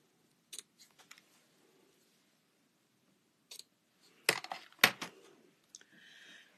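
Scissors cutting paper while making a gift card holder, a few sharp close snips and crisp clicks scattered over quiet pauses, with a louder cluster of cuts near the end.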